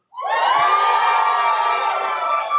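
A graduation crowd at Bay Mills Community College erupts into loud, sustained cheering and high whoops that start abruptly and hold steady for a couple of seconds.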